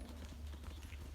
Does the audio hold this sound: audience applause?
no